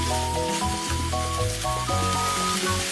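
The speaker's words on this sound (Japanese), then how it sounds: "そしたらね、強火にしまして、よーくね、炒めていきましょう。" Canned mackerel, bitter melon and tofu stir-fry over high heat in a pan, giving a steady loud sizzle with continuous crackling hiss and scraping close by, with no talk.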